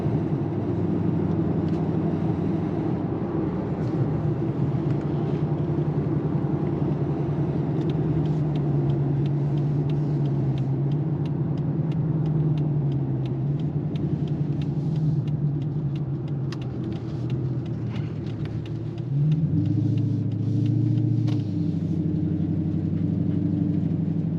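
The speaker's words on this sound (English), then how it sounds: "Good mellow tone when you're not on the throttle." A supercharged Dodge Challenger SRT8 with an Edelbrock-powered 600 horsepower engine cruises off the throttle, giving a steady, mellow, deep exhaust rumble that holds close and continuous, with a slight shift in tone near the end.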